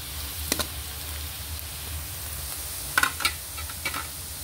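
Chopped onions sauté in a pan for a Filipino beef papaitan, giving a quiet, steady sizzle broken by a few sharp scraping stirs of the spatula.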